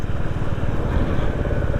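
A new Royal Enfield Bullet 350 motorcycle being ridden on the road gives a steady, close, thumping engine rumble with a dense pulsing low end throughout, and no talking.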